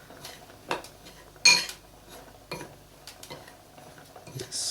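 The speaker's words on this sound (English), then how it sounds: "I'm taking besan and some suji and just mix them together" Besan and suji get mixed together in a bowl, producing a few sharp clinks of a utensil against the bowl amid soft, intermittent scraping, quiet and close.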